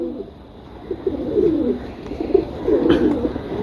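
Soft, rhythmic cooing comes from pigeons kept at close range, including a large young bird, in several rounded, throbbing phrases with brief pauses between them.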